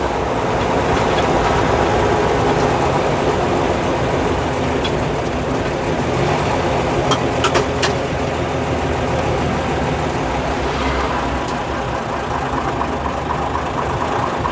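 A 1956 Daimler double-decker bus with a pre-selector gearbox creeping along on its fluid flywheel, a loud, steady engine rumble and drone heard from inside the cab, with a few faint rattles and clicks.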